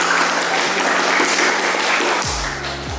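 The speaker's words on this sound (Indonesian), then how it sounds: "kita kasih aplaus buat Mas Iqbal" Classroom applause from students for Mas Iqbal, a steady wash of many hands clapping that fills the room, then thins out near the end as a low tone and a few scattered claps remain.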